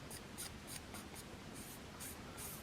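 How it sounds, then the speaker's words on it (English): A Sharpie marker rubs in short, repeated squeaky strokes across the steel bevel of a single-bevel Samurai broadhead blade, faint and close, with no other sound. "I'm going to color this up with some Sharpie marker"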